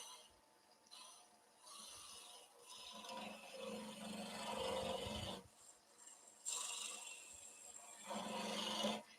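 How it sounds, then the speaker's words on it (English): Skew chisel cutting wood on a lathe while turning a hummingbird, quiet rasping and scraping in several passes broken by brief pauses, with a low hum from the lathe underneath. "Then we can give this a nice little skew cut."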